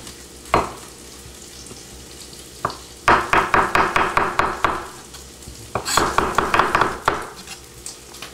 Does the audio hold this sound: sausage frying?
yes